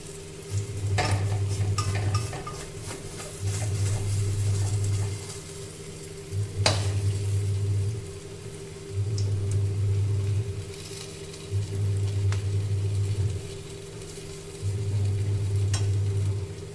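Dahi vada fritters made from ground black lentil batter fry in oil over a low to medium flame, giving a soft steady sizzle. Low rumbling bursts recur every couple of seconds and an occasional clink sounds, with no talk.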